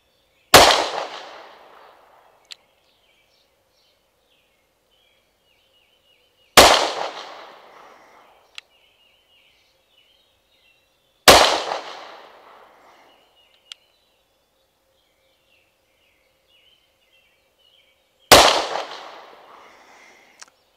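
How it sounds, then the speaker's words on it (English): Five shots from a S&W Shield Plus pistol chambered in 30 Super Carry ring out at a range, sharp loud cracks spaced seconds apart, each followed by a faint echo and a small tick. "There's 5 rounds from 7 yards."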